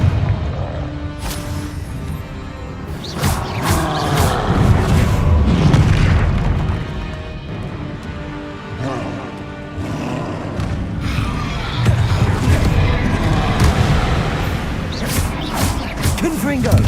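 In the Hogwarts Legacy game, repeated Confringo fire-spell explosions boom heavily through a dense, loud combat din. Deep blasts and crashes come one after another, and voices shout over them.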